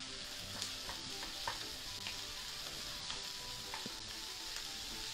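Prawns with chilli and garlic fry in a hot pan, a steady close sizzle carrying scattered clicks and scrapes as they are stirred, with no talking.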